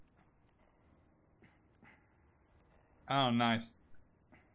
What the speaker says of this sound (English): Do I hear crickets?